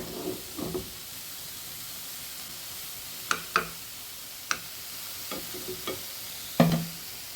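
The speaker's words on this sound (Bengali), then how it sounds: "এখন শুটকিগুলা দিয়ে দেব এটার মধ্যে। একদম ভাজা ভাজা করে নেব" Dried fish being dry-roasted without oil in a pan, heard as a quiet sizzle with a series of sharp scraping stir strokes, one louder scrape near the end.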